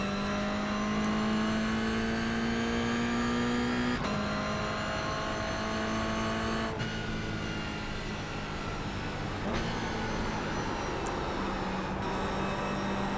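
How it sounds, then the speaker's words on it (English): Toyota GR86 race car oversteering on track, engine droning loudly and steadily with gear shifts every few seconds as the pitch climbs and drops, heard from onboard and alone. "You could literally hear the oversteer sound."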